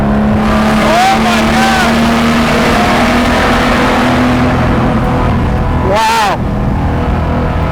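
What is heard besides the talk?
Lamborghini Jarama engine revving in a tunnel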